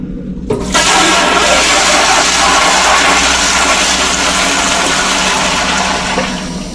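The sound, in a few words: toilet flushing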